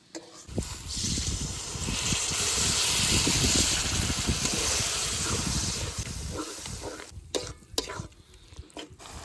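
Water poured into hot oil with turmeric and chili powder for Bengali chicken kosha, erupting in a loud, steady hiss and sizzle that swells for several seconds, then settles into lighter spattering and stirring scrapes.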